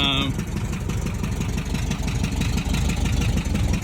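Volkswagen bus with an automatic transmission idling, a close, steady low throb with rapid even pulses that holds throughout, a brief tone at the start and no talk.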